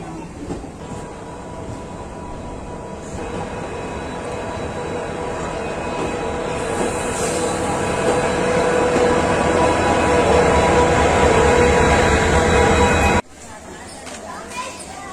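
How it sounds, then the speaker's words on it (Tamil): A train rolls into Rameswaram railway station, a steady loud rumble of wheels and carriages that builds over several seconds before cutting off abruptly near the end. "ராமேஸ்வரம் ஸ்டேஷனுக்குள்ளே நம்ம ட்ரெயின் உள்ளே நுழையுது."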